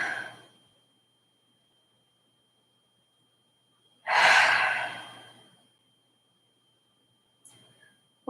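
Slow, relaxed breaths during a yoga cool-down, a faint exhale at the start, then one long, clear breath out after a silent pause and a small, soft breath near the end, close and quiet.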